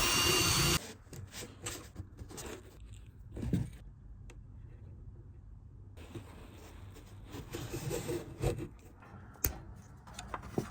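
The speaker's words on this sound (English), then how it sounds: "Looks like I will drill 5/16." A power drill bores a 5/16 hole during a diesel heater install under the front seat of a Ford F250, beginning with a short loud burst, then intermittent whirring and grinding near and moderately loud, with clunks of handling in between.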